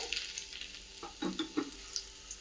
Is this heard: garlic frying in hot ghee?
yes